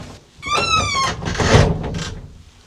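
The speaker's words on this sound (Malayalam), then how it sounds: "കണ്ടോ ഈ വാതിൽ അടക്കണം" A door being closed inside a building at a shrine stay in Egypt, heard as a scraping, squeaky slide followed by a couple of dull knocks close by, with no speech.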